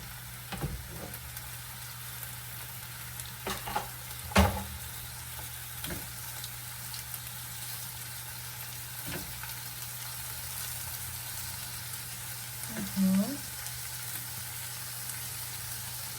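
Chopped meat frying on top of onions in a pan, a steady soft sizzle running throughout with occasional scrapes and knocks as it is stirred; no voices.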